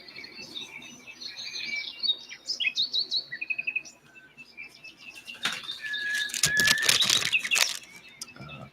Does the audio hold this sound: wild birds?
yes